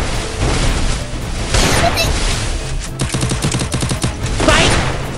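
Rapid gunfire bursts in a shooting video game, loud and close, with repeated clustered shots and booming impacts, while players talk excitedly over the action.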